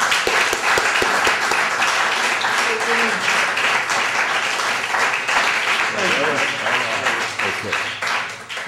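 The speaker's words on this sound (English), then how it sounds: "so let's give Brother Jim a great round of applause." Audience applause at a 2006 poetry reading in a branch library, a loud, sustained burst of clapping with a few voices calling out through it, fading slightly near the end.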